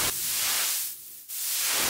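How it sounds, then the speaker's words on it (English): Korg minilogue xd synthesizer in white noise mode gives a loud, steady hiss that briefly dips and thins, as if filtered, before returning to full strength. "That's your white noise, and then you have some different filtering modes."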